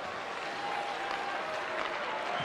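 Faint, distant ice hockey arena crowd applause after a decisive Djurgården goal, a steady wash of clapping without clear talk.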